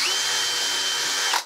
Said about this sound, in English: so I'm gonna drill another one here